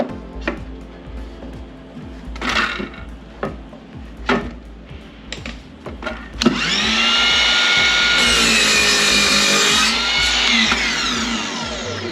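A power tool trims the rough ends of wooden rails for a blanket ladder: a few scattered knocks and handling sounds, then a loud, close whine that runs steadily for several seconds before stopping.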